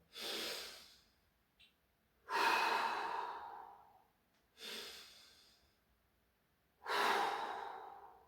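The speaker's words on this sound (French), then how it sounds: "On respire 2 fois." Deep breaths during a workout training session: four slow, loud, breathy exhales and inhales close to the mic, spaced about two seconds apart, with quiet pauses between them.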